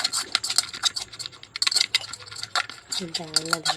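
Corn snack with squeezed lemon juice is tossed and mixed in a bowl, giving close, rapid scraping and clattering bursts, with a voice speaking near the end.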